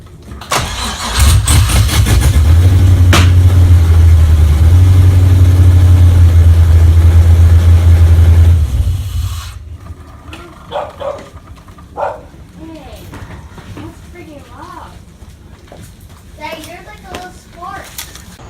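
A Nissan 240sx S14 with a swapped LS1 V8 and open headers cranks and fires up, roaring loud and close for several seconds before cutting off, followed by a dog barking and people talking in the quiet afterward.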